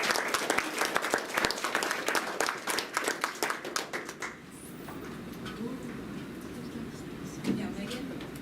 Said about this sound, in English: So give Riley another round of applause, please.